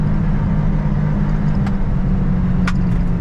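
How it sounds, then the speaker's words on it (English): A John Deere 7800 tractor runs flat out at its rev limiter around 46 mph, giving a loud, unbroken engine drone at a constant pitch with steady road and wind noise. "The rev limiter kicks in at 46 miles an hour"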